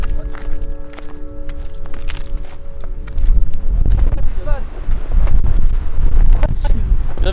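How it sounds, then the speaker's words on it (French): Strong wind buffeting the microphone on a hillside, a loud rough roar that swells and gusts throughout, with someone speaking under it. "il y a un vent de malade, mais vraiment un vent de malade"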